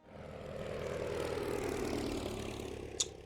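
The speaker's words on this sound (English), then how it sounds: "We have a German plane coming in." German warplane engine from a World War I strategy game, a steady propeller drone rising and holding through the clip with a brief sharp click near the end, no talk.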